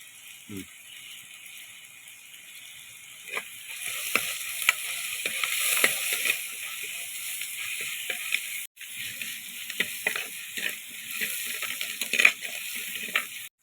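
Crushed shallots and curry leaves frying in hot oil for a fish curry, a steady close sizzle with scraping stirs and rattling of the spoon against the pan, growing busier partway through.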